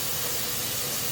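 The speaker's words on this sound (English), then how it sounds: "I've got lots of steam coming out of here" Steam hisses steadily from a steam canner after processing, a dense continuous broadband rush at constant loudness with no voices.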